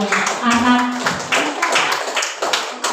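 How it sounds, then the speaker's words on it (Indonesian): A classroom of pupils claps for a group of classmates, a brief burst of scattered hand claps mixed with children's voices and chatter throughout. "Kita tepuk tangan untuk kelompok"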